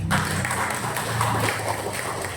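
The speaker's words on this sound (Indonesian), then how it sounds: "Tepuk tangan" Audience applause at a school learning showcase and talk show, a steady wash of clapping throughout the short stretch with some low background rumble and faint voices.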